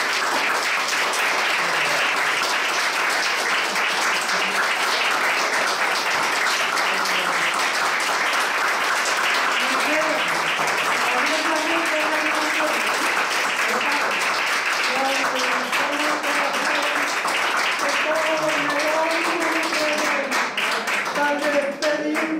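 Hospital staff at Gregorio Marañón Hospital give a discharged patient a long, sustained round of applause, dense clapping from many hands with voices calling and cheering underneath throughout.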